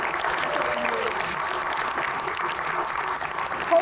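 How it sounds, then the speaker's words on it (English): A crowd at a senior awards ceremony for diversity and inclusivity breaks into sustained applause, dense clapping with a bit of crowd murmur underneath. "I want to ask all to give a big round of applause to all of us."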